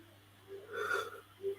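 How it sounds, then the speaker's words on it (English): A single drawn-out yawn with a breathy, wheezy rise and fall over a steady low electrical hum, followed by a short exhale, near the mic during a live football stream. "sorry for the yawn, people"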